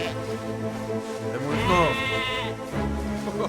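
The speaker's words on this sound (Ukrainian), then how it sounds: "Тут заскриптовані ці вівці." Sheep in the video game Valiant Hearts: The Great War give a single clear, wavering bleat, close and prominent over a steady musical background.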